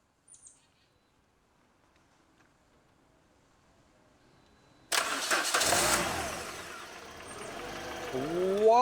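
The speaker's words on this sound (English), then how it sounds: "Let's start our car." Car engine cranking and catching after being jump-started with a VTOMAN V8 portable jump starter, turning over abruptly after a quiet lead-in and settling into a steady, fairly loud idle close by.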